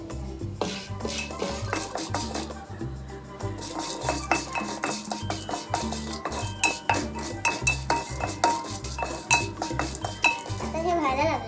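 A spoon scrapes and clinks against a metal pot as popcorn kernels are stirred, giving rhythmic, close metallic knocks and rattles that repeat steadily.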